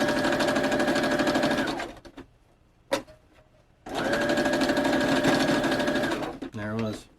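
A sewing machine stitches a duster jacket in two loud, close runs of rapid, even whirring, separated by a quiet pause with a single clack, then a brief voice at the end.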